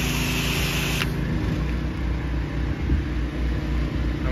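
Two FlowPro pressure washer machines running together on a flow-actuated unloader setup, a steady loud mechanical drone with a constant motor hum and whine throughout, a sharp shift in tone about a second in.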